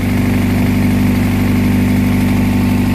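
A non-VTEC Honda Prelude H23 engine with a tube-and-elbow exhaust setup running at a steady idle, loud, close and unbroken, with a deep even drone and no talk.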